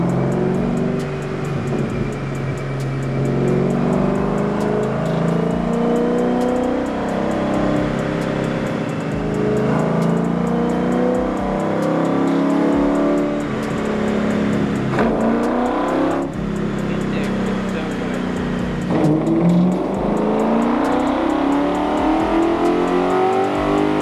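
A car engine revs hard on a dyno during tuning, loud and close, climbing in pitch through repeated pulls for about twenty-four seconds with no speech.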